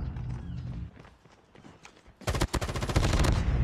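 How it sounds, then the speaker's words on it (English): Rapid automatic gunfire in Call of Duty Mobile during a free-for-all wager match, starting quieter and then bursting into loud, dense volleys of shots that keep going to the end. "Oh, stop firing."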